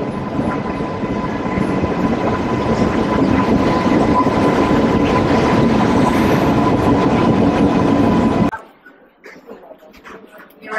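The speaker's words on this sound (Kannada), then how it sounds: "ಟ್ರೈನ್ ಬತ್ತಂಡು" A train pulls into a station platform on a Coimbatore to Mangalore journey, its loud, steady rumble and rolling wheel noise filling the air for about eight seconds before cutting off abruptly, with a dog barking somewhere nearby.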